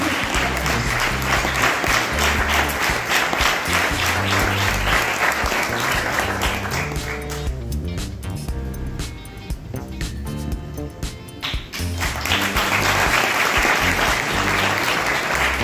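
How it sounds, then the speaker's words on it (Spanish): Sustained loud applause from a festival audience at the presentation of the mairalesa in the Barrio de La Encarnación, Huesca, a dense, continuous wash of clapping that dips briefly midway before swelling again. "Y otro fuertísimo aplauso a nuestra mairalesa mayor"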